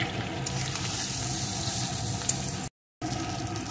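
Washed dal is stirred into vegetables sizzling in oil in a pan, making a loud, close crackle with scraping stirs that cut out briefly before resuming.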